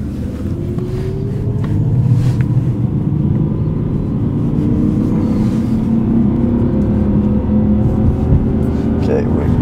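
A BMW M5 with a V10 engine pulls hard from second gear, its roar climbing steadily in pitch as it accelerates, loud and close, with a rough rumble running underneath the whole time.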